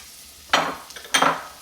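Half a cup of green peppers hits a black iron pot in Ville Platte, Louisiana, giving two sharp, close sizzling bursts about half a second apart against an otherwise quiet background.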